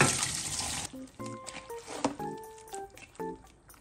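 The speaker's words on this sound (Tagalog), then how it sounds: "Tapos nung hinugasan yung pusit" Squid washed in a sink under a running tap: a burst of steady splashing flow at the start, then softer patters, drips and light handling clatter, fairly close.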